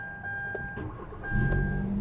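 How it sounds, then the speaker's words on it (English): A 2013 Kia Rio with a no-start fault makes a quiet electronic hum and dash chimes, then its engine cranks and catches into a low rumbling idle toward the end, heard close and without speech. "if I try and start this car, before the gauges cycle,"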